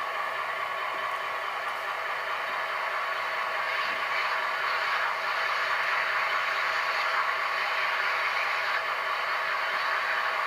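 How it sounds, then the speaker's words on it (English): Steam generator hiss from a Rapido New Haven HO FL9 model locomotive sound decoder, a steady, even broadband hiss with faint mechanical ticking, continuous for the whole stretch. "So there's the steam generator sound."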